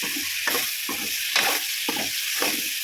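Bitter gourd and tomato sauté in hot oil with a constant bright sizzle, while a spoon stirs them in an even repeating rhythm of scrapes, close and alone.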